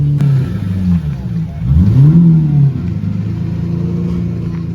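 A Lamborghini Murcielago, due a full suspension rebuild, drives on snowy roads in freezing weather. Its close, loud engine drones steadily and swells once in a rev that rises and falls.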